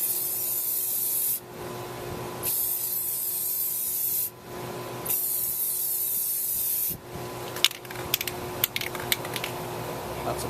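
Clear coat sprayed onto a Ford Crown Victoria headlight: three long, steady hissing bursts with short pauses between them, followed by scattered light clicks and taps, close and fairly loud.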